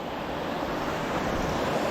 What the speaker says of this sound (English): this is the top of the waterfall here.